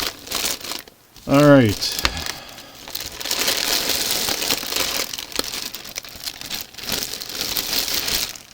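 Plastic bags holding Lego pieces rustle and crinkle close by, with a short spoken word and a brief tone early on, then continuous crackling handling noise.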